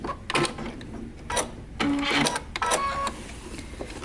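A sewing machine back stitches in short separate bursts of close mechanical clatter with quiet gaps and clicks between them.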